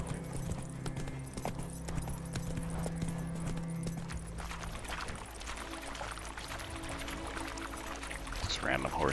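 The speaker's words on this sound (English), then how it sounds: "Just random horses just chilling." Horses in the video game The Witcher 3: Wild Hunt clop their hooves in a steady stepping rhythm over a soft game ambience, with a voice talking over parts of it.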